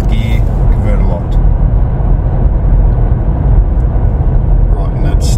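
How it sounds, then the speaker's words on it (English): Toyota 200 Series LandCruiser cruising steadily in fifth gear at 100 km/h with the converter locked near 1900 RPM, a continuous low engine and road drone inside the cabin with people talking over it. "Fifth gear, converter locks, sitting on 1900 RPM at 100 kilometers an hour."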